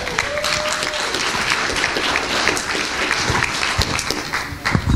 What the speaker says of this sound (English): Let's give the Lord a clap offering this morning